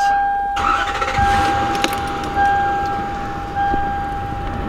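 A Lexus LS400 engine cranks briefly and catches, then settles into a steady idle close by, with a few faint clicks and chimes over the running motor; the car is stuck in limp mode.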